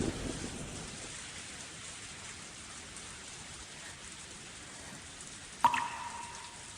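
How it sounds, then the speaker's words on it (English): Heavy rain pours down steadily as a continuous hiss, with a sudden sharp crack of thunder near the end before the downpour carries on. "the rain was getting heavier"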